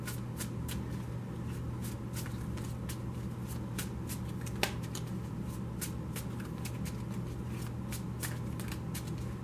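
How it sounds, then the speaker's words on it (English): A tarot card deck is shuffled close up in a quiet room, repeated crisp riffling flicks over a steady low hum, with one sharper snap midway. "I'm only going to shuffle till now"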